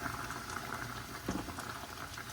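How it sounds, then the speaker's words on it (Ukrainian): Uzbek lamb plov simmering in a covered pot on low heat after boiled water has been added, giving a steady, close bubbling and gentle gurgle throughout. "Залишаю його на маленький вогонь і буду тушити приблизно 40 хвилин."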